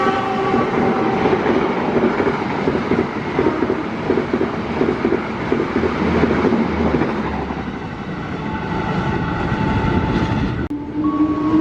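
The Taksaka passenger train, hauling 12 cars, rumbles past close by with a loud, steady roar and rhythmic clatter of wheels over rail joints, and sustained horn-like tones rise toward the end before the noise cuts sharply.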